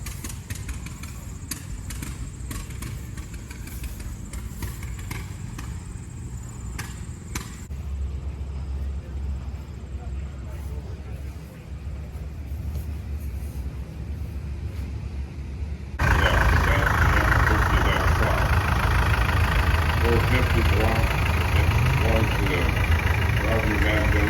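An Oliver 450 diesel tractor engine idles at a threshing show with a steady low rumble throughout, growing noticeably louder and rougher partway through as if the machine moves closer.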